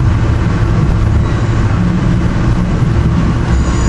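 A train rumbles steadily through a rail yard near Paoli, loud and close, with a continuous low roar and no talk.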